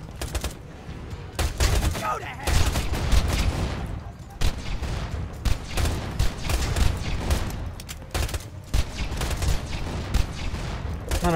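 Rapid gunfire from a gun in Borderlands 2, dense bursts of shots running nearly nonstop with brief pauses, loud and close, with a voice speaking over parts of it.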